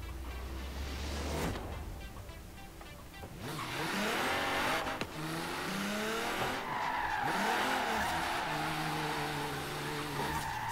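A Nissan GT-R drifting in the video game Forza Horizon 3 lets out long, wavering tire squeals over a straining, revving engine, with loud skids that come and go for about ten seconds.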